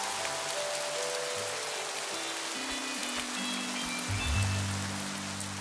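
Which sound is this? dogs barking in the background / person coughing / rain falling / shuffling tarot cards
rain falling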